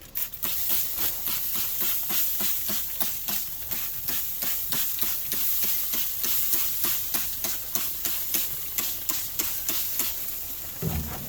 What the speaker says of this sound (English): Put some more water in our water pan down there.